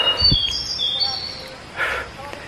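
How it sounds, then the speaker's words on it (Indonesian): Birdsong in a misty mountain forest on Gunung Salak: a few thin chirps and whistled calls, moderately clear over a hushed, breezy background, with one louder burst near the end. "Dan suara burung pun jelas banget di sini ya."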